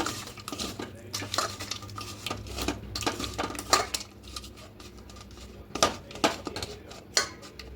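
Catla fish pieces being mixed with salt and vinegar in a bowl, close clinks, scrapes and wet knocks of utensil against the dish in uneven bursts, louder taps standing out now and then.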